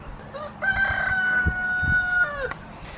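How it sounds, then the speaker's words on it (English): A single rooster crow rings out clearly, a sustained strained call ending in a downward break, with some low thumps in the background. "It sounds like next door's chicken. Both sides now are having a go."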